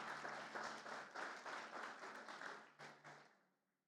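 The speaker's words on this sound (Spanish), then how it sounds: "Le damos un aplauso a la protagonista de la noche" An audience at an evening church service applauds, a steady wash of many hands clapping in a hall that swells in pulses and then fades out over a few seconds.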